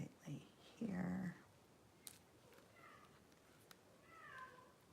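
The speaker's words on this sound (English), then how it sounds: "That's my cat. Can you hear him?" A male pet cat lets out muffled meows while carrying something in its mouth, one drawn-out low call and a few softer chirps. The cat is near and moderately loud, with a few small clicks and light handling noises in a quiet craft room.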